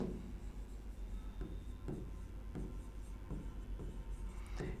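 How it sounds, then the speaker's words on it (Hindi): Hand-written notes, a pen scratching on paper in a steady series of short strokes with brief taps between them, quiet and close, with no voices. "तो मैं लिख देता हूं"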